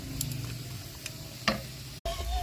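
Potatoes fry in hot oil for a mutton curry, making a close, even sizzle with scattered light ticks and a brief cut near the end.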